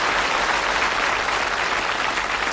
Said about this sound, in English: Worth a round of applause, that.